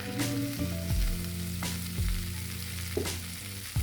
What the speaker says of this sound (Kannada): ಎಣ್ಣೆ ಹಾಕೊಂಡು ಎಲ್ಲ ಹುರ್ಕೋತೀನಿ.